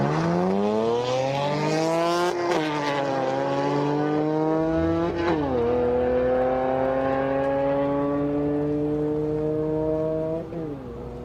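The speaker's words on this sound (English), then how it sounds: "Brian Ramirez in that Integra, coming up against Stephen Jones in the Camaro ZL1." A nitrous-fed Honda V6 in a rear-drive, mid-engine Integra drag racing a Camaro ZL1, loud sustained high-revving engine roar with several sharp gear-shift dips as the pitch climbs repeatedly, fading slightly at the end.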